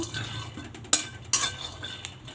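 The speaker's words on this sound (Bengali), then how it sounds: "এই দেখো ডাল ভাজতে বসিয়ে দিয়েছি" A spoon scrapes and stirs dry lentils roasting in a pan, with a few sharp metallic clinks against the pan's side.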